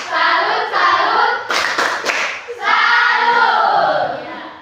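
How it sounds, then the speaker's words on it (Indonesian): Classroom applause from students, a burst of clapping mixed with voices chanting and cheering, loud and close, with a sharper clatter of claps midway before the group voices swell again. "Beri tepuk tangan dulu"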